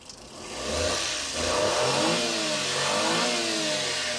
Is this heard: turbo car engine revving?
yes